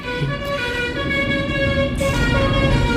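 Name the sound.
bus horn honking in Roblox Mall Tycoon video game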